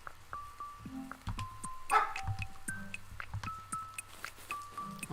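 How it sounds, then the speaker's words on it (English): A cartoonish video-game dog in the farming game Ooblets lets out a handful of short, yippy barks and whimpers scattered among soft chimes and game effects, all fairly quiet. "Gemma, if you don't stop barking, you're going into the wildlands."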